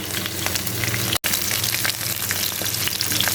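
Egg batter with onion frying in a pan over a low flame, giving a steady close sizzle with light crackles and a brief dropout partway through.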